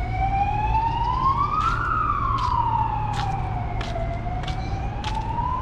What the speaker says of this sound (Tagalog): Yan, may dumang ambulansya.